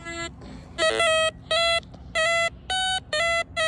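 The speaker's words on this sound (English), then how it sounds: "You hear that high-pitched tone? That's the mix mode coming in on the AC." A White's DFX metal detector gives high-pitched target tones in mix mode while relic hunting: about six steady, loud electronic beeps in an even on-off rhythm, alone, with a faint lower blip between.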